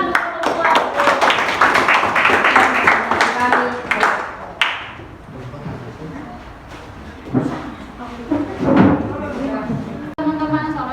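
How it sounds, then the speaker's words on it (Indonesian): Classroom applause for a student group after a lab presentation, a burst of clapping from many hands that fades after a few seconds into murmuring, chatter and scattered knocks. "Tepuk tangan untuk kelompok"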